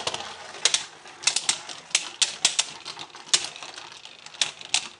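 Beyblade spinning tops clashing in a plastic stadium, a rapid run of sharp clicking and clacking impacts, close and fairly faint, with no talking.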